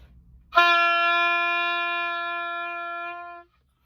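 A single sustained oboe note played with a smooth embouchure, smooth and steady in tone, holding for about three seconds and then stopping cleanly.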